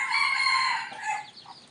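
A free-range rooster crows loudly and close by in one long, drawn-out call that tails off into a softer cluck, with no voices.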